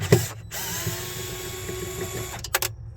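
A power drill or driver whirs steadily while unscrewing a part inside a Sub-Zero 424G/02 refrigerator during sealed-system replacement, with short clicks at the start and a couple of brief bursts near the end.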